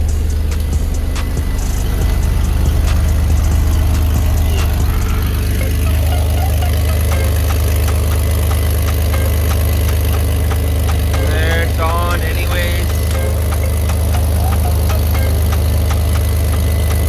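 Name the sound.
Chevy S10 truck engine idling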